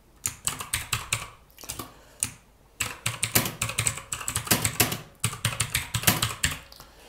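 Someone types C programming code on a computer keyboard, close and moderately quiet: quick bursts of clicking keystrokes separated by brief pauses, with no talking.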